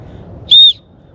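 Whistle built into a Leatherman Signal multitool gives one short, loud, shrill blast lasting about a quarter second, alone against a quiet background.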